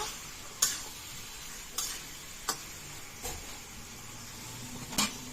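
Bottle gourd and potato pieces being stir-fried in spiced oil in a pan: a faint, steady sizzle broken by several sharp spatula scrapes and knocks at irregular intervals.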